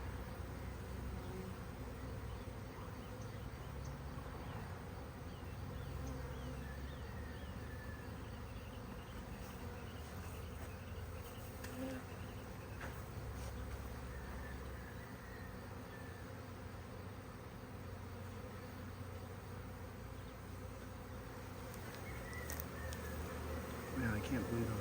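A large honeybee swarm in a garden gives a steady, dense buzz that fills the whole stretch without pause, many bees droning together at close range.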